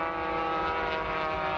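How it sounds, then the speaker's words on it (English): A propeller-driven pace plane at a 1995 air race in Madera pulling off the course, a continuous steady engine drone heard at moderate distance with no talk over it. "Pace plane off the course."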